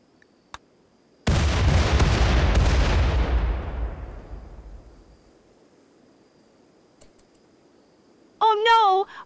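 A single loud explosion in the RimWorld video game bursts in suddenly and rumbles away over several seconds, preceded by a faint click, with a brief spoken voice near the end.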